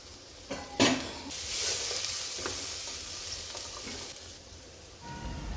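Grated carrot being stirred into frying sprouts and coconut in a pan, with a steady sizzle and a few scraping, clinking utensil strokes against the pan.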